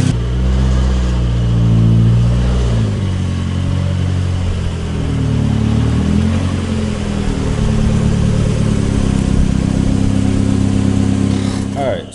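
A turbocharged Mazda Miata engine runs steadily, a loud, close, low idle with a lumpy rumble and slight rises in pitch, holding on for about twelve seconds.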